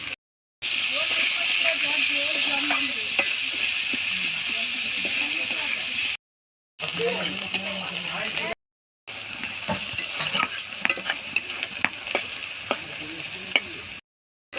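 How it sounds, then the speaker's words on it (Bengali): Chopped onions sizzle steadily in hot oil for a chicken curry, a loud close frying hiss with scraping stirs and spatters throughout, broken by a few brief silent cuts. "পেঁয়াজগুলো একটু ব্রেস্তার মতন লাল লাল করে ভেজে নেব।"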